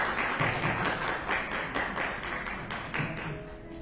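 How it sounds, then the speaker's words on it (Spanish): Audience applause welcoming a speaker, Dr. San Vicente, at a talk: continuous crowd clapping that holds steady throughout, heard from a distance and fairly soft. "Recibamos con un caluroso aplauso a la doctora San Vicente"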